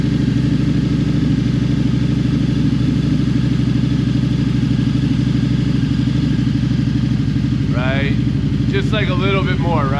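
A loud, steady Harley-Davidson V-Rod motorcycle engine idles with a throaty, rapid exhaust rumble throughout, and a person speaks briefly over it near the end.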